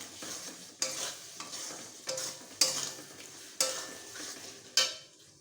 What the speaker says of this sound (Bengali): টমেটো কুচি দিয়ে আরও কিছুক্ষণ আমি মশলাটাকে কষাবো।